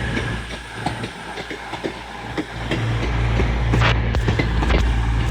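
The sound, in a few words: Class 220 and 221 trains departing York for Edinburgh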